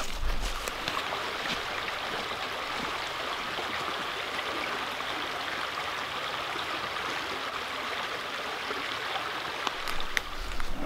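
A river flows beside a forest trail in New Hampshire on a soggy day, a steady broadband rush of water running continuously at moderate distance with no voices.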